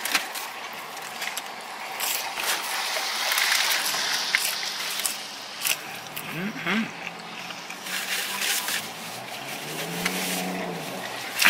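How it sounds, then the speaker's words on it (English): A noisy purple-black truck drives past outdoors, its engine roar swelling to a peak and then easing off over several seconds, with other traffic and brief voices mixed in. "Somebody in their noisy purple black truck."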